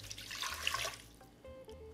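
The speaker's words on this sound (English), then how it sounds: "Add your water" Water is poured into a blender for a salsa of poblanos and cilantro, giving a soft, close splash and trickle that is faint and tapers off after about a second and a half, with no talking.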